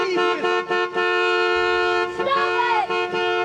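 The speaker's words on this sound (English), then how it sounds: "I'm gonna honk the horn" A car horn honks in The Texas Chainsaw Massacre (1974), with repeated loud blasts separated by brief breaks.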